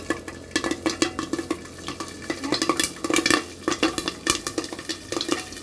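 Sharp pops and crackles of feed corn popping into popcorn burst irregularly inside a covered pot, layered over a steady sizzle, the popping dense and lively.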